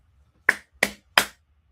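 Three sharp, evenly spaced hand claps, close and fairly loud, each one short and crisp against a quiet background.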